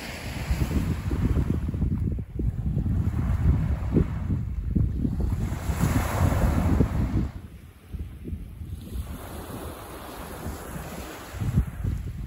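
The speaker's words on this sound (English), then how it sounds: "enjoying the sound of the waves" Adriatic Sea waves wash steadily along a Croatian shore, a continuous low rushing surge that swells and eases in slow pulses, with wind buffeting the microphone throughout and no voices.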